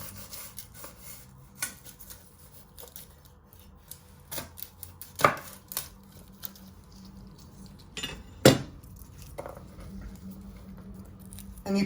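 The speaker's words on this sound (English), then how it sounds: "Then with your knife you want to trim the ends" A kitchen knife trims the ends of garlic cloves on a board, giving scattered sharp cuts and taps with a few louder chops amid quiet handling sounds and pauses.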